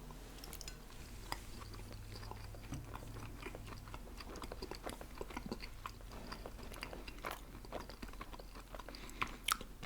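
Close, wet chewing of pierogies with bacon, with steady soft crunches and mouth clicks running throughout and faint background hum, no talking.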